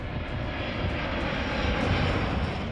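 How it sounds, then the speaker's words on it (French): An Air China Boeing 747 engine drones loudly and steadily, a continuous close jet roar with no talking over it. "il utilise un Boeing 747 de la compagnie Air China"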